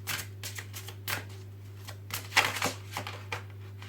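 Oracle cards are shuffled and drawn in a run of short, papery riffles and flicks, close and fairly quiet over a low steady hum.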